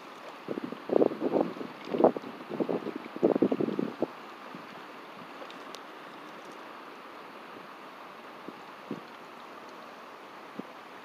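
Wind gusts buffet the microphone during a fishing outing at a Highway 73 access, with several rough bursts of rumbling noise early on before settling into a steady, lighter hiss.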